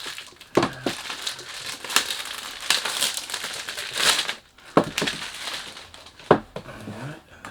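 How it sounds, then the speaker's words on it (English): Plastic packaging of an Al Haramain perfume crinkles and crackles in irregular bursts, close and loud, with sharp rustling snaps between quieter handling noises. "Sorry about the noise. When you do unboxing, you can't do anything about it."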